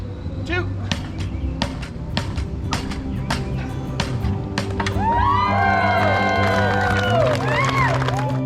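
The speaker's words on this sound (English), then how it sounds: "you guys go nuts, clap, scream, cheer, whistle" A crowd in Key West erupts into loud applause, rapid clapping and cheering, with sharp whistles rising and swooping over the noise during the second half.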